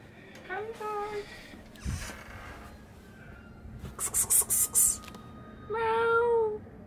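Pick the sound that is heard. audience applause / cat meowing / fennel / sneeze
cat meowing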